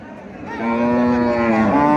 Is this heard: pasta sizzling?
no